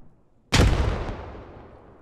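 A grenade goes off in the military shooter game Squad: after a quiet moment comes a single loud, close blast with a deep boom that rolls off into a long fading rumble.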